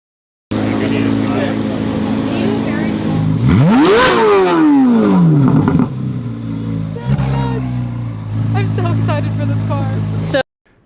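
A Chevrolet Corvette C8 engine runs loud and near, then revs hard in one rising and falling sweep before dropping back to a rough idle. Voices can be heard around it.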